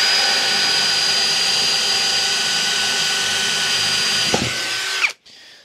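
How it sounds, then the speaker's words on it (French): An Einhell Professional TP CD 18/80 Li BL cordless drill bores a 10 mm bit through an MDF board in second gear: a loud, steady, high-pitched motor whine with a brief jolt near the end before the drill winds down and stops. "le perçage avec un forêt de diamètre 10 et une planche de médium à percer"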